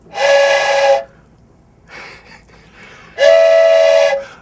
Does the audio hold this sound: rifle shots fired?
no